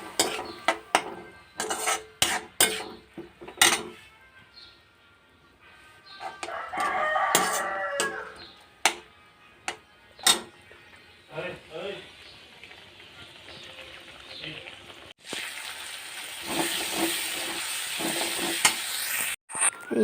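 Moong dal stirring and sizzling in a hot pan, with scraping strokes and frying crackle coming in bursts, then a loud, steady sizzle near the end; a rooster crows in the background.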